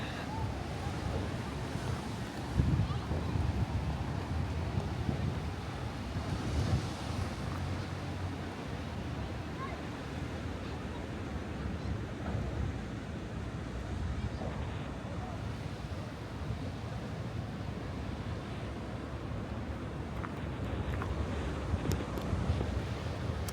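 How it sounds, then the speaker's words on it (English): Ocean surf breaks along the shore at Rabat, Morocco, a steady, loud roar of waves blended with wind buffeting the microphone, and a person talks at times over the wash of water. "you can see the waves here"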